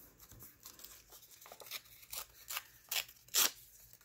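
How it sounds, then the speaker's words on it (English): Decorative paper being folded and torn by hand, faint close crinkles followed by a few sharper ripping bursts that grow louder toward the end, with no voices. "I'm just going to fold it and tear it"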